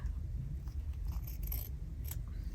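Scissors cut through fabric scraps in a few close, crisp snips over a low, steady background hum.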